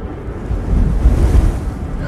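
Strong wind roars in steady, gusting waves with a deep rumble that swells toward the middle. No voices over it.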